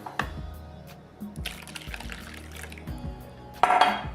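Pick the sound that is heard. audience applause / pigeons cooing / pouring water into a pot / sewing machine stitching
pouring water into a pot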